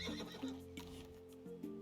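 A horse in the Roots of Pacha farming game gives a short, quiet whinny with a few clip-clop steps, playing alone at low volume.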